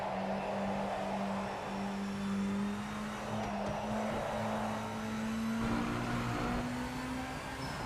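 Hypercar engine from the racing game Project Motor Racing, droning steadily with a slowly rising pitch as it accelerates, loud and close and heard alone with no talking.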